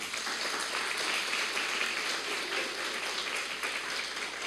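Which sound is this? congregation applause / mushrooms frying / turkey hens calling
congregation applause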